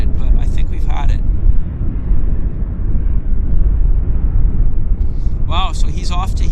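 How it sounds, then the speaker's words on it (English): A WestJet airliner taking off at Vancouver Airport, heard as a loud, broad, steady jet roar across the whole stretch, with brief radio chatter or voices at the start and end. "Westjet there, getting airborne on the other side"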